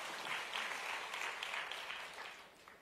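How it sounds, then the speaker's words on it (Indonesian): A church congregation claps together, a faint, steady patter of many hands that eases off toward the end. "Tepuk tangan bagi Allah kita."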